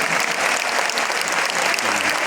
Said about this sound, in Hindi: कृपया तालियों की गड़गड़ाहट से आपका स्वागत करें